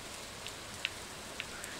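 Soft, steady rain falling in the farming game Stardew Valley, a faint even patter with a few sharper droplet ticks standing out over the brief stretch.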